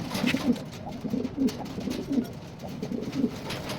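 Rock doves cooing in a loose flock of about 25 birds, a steady run of low, throaty coos repeating in overlapping phrases close to the microphone, with no speech over them.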